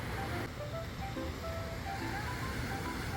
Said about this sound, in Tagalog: The waves are too strong.